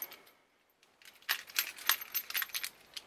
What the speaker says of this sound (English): Get your car keys